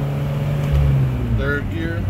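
A 1975 Citroen DS23 Pallas with fuel injection and air conditioning pulls along in second gear, its engine a steady low drone with a brief swell in the middle, and someone talks over it throughout.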